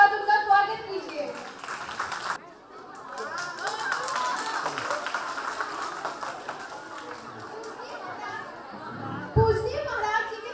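A school function audience breaks into clapping for a student invited on stage, with scattered chatter and children's voices mixed into the steady applause.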